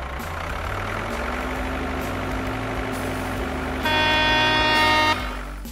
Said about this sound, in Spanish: Este es un tractor.